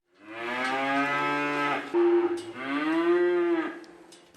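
Dairy heifers moo in two long, loud, drawn-out calls, close by, with the second starting almost immediately after the first.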